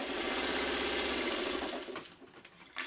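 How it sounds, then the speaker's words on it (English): A sewing machine stitches a fabric piece onto a quilt block, its fast steady whir running close and loud for about two seconds before slowing and stopping, followed by a few faint handling clicks. "I'll get this last piece sewn on"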